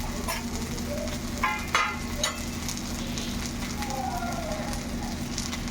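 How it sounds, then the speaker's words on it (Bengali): Onions fry gently in a pan for a chicken dish, giving a soft continuous sizzle with a few brief scraping stirs near the start; no speech. "পেঁয়াজটা মোটামুটি একটু হালকা করে ভেজে নিচ্ছি।"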